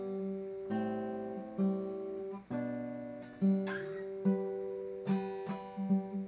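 Acoustic guitar slowly playing a song's intro and first verse line, plucked chords struck one after another in a steady rhythm, close and moderately quiet, with no talking.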